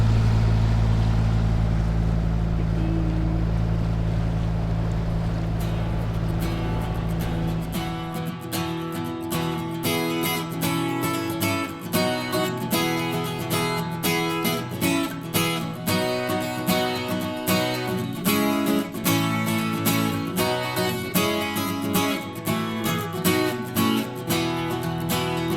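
The sailboat Evasio motors out of a marina under engine power, a steady low drone at first giving way to a busy, rhythmic mechanical clatter and pulsing engine beat that continues close and loud.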